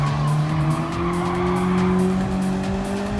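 A race car in the video game Gran Turismo 7 squeals its tires in a sustained skid, the loud, close engine droning with shifting pitch beneath the screech.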